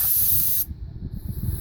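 A loud, steady spraying hiss of gasoline sprayed onto a heater at about 600 degrees cuts off abruptly partway through, leaving a low rumbling background.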